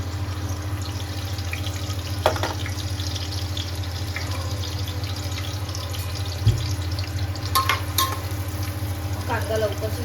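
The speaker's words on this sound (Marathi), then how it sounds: "तर मी आता अगोदर कांदा शिजवून घेणार आहे तेलावर छान असं" Chopped onion fries in about one and a half spoons of hot oil inside a pressure cooker, a steady close sizzle with a low hum beneath and a few faint knocks of stirring, with no speech.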